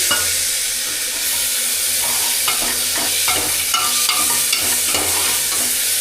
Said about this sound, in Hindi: अब इसके अंदर टमाटर डाल लेता हूँ, इनको भी जल्दी से फ्राई कर लूँ मैं।